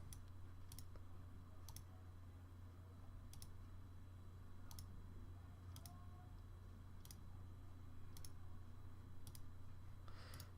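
Mouse clicks at a steady pace, roughly one every second or so, while playing the geography game Geoguessr, crisp and close over a constant low hum and background noise, with no talking.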